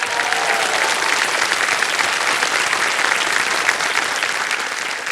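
A studio audience at a TV quiz show applauds loudly and steadily, a dense, continuous wash of many hands clapping together, with no speech.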